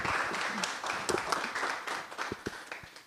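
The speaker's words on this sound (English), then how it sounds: "Let's give you a round of applause." A round of applause rises at the Anguilla Premier T20 League cricket draw gala, with a dense wash of clapping at first that thins into scattered individual claps.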